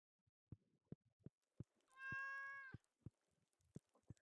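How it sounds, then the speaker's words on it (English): A pet cat in the farming game Stardew Valley gives one clear, drawn-out meow, close and alone, set among soft regular game footstep-like taps. "there's our pet cat."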